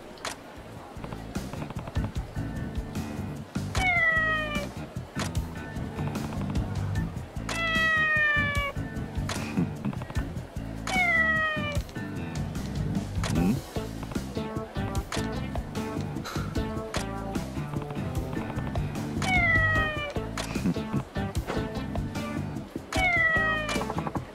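Repeated cat meows in Like a Dragon: Ishin!, several bright drawn-out calls spaced every few seconds over a busy game soundtrack and ambient bed.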